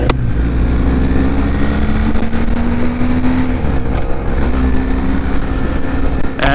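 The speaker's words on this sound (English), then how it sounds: "So we got Raj on his bike" A Triumph Bonneville motorcycle rides on the road, its engine droning loudly and steadily, pitch shifting gradually with speed amid strong wind rush, without talking.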